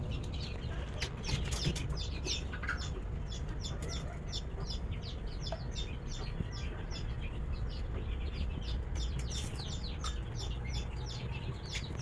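Chicks on a poultry farm peeping and chirping in rapid, busy bursts, with some clucking amid a steady low background rumble, fairly close and without talk.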